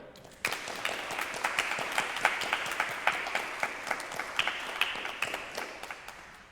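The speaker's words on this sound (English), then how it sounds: "give a round of applause to the greatest artist in Kansas City, Stan Morgan" A church congregation applauds an artist during a worship service, a dense, even patter of many hands heard from a moderate distance, with a few sharper claps standing out.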